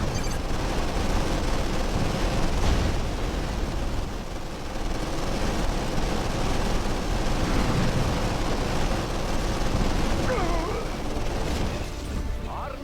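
Missiles launch and explode in Red Alert 2 during a rescue mission, a dense, continuous roar of booms and blasts rumbling steadily for the whole stretch with no break.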